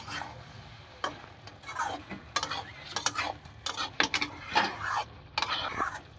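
Methi greens, flat beans, brinjal and prawns cooked down in a pan and stirred, a spoon clicking and scraping against the pan in irregular bursts over a soft bubbling background, close but fairly quiet.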